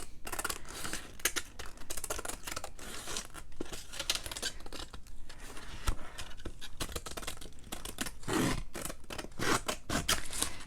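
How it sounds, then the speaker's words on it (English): Scissors snip steadily around a glued leather-look paper cover for a handmade book, with repeated close, crisp cuts continuing throughout and no talking. "Now that it's all glued down, we're going to just cut around it"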